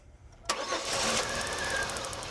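Car engine cranking briefly and then catching during an ignition spark test in a garage, a sudden start at about half a second settling into a steady running engine.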